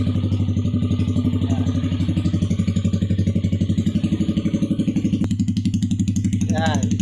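Yamaha Aerox scooter with an aftermarket exhaust pipe idling nearby, a steady, throbbing engine putter that runs loud and unbroken throughout while someone talks over it.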